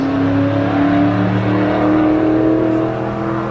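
A race car engine roars steadily and loudly as it pulls away from the start line at the Pikes Peak hill climb, its pitch climbing slowly as it accelerates, with no voices over it.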